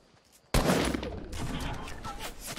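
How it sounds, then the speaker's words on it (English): Fortnite Battle Royale gunfire erupts after a brief quiet moment: a loud, close burst of rapid shots followed by sustained crackling fire. "I'm getting shot from somewhere"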